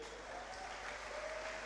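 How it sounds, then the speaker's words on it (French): Crowd applause at an amateur boxing event for a fighter in the blue corner, a short burst of continuous clapping heard somewhat distant in a reverberant hall. "que l'on peut applaudir une nouvelle fois s'il vous plaît"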